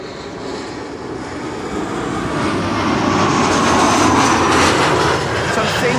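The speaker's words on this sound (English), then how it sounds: "This is KLM flight 1070, arriving from Southampton, Embraer 175." A KLM Embraer 175 jet arriving from Southampton gives a steady broadband roar that swells gradually as it draws nearer, with no words spoken.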